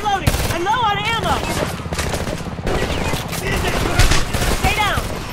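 Sustained suppressing gunfire in the shooter game Homefront, dense rapid bursts of automatic weapons crackling throughout, with shouted voices and other battle noise mixed in.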